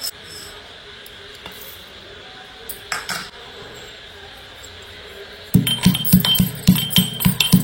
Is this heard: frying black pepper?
yes